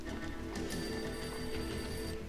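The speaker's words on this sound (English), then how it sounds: "The phone in the entrance hall was ringing" A telephone ringing in the entrance hall of a building in Max Payne, a rapid metallic bell trill repeating steadily over low ambient music, with no talking.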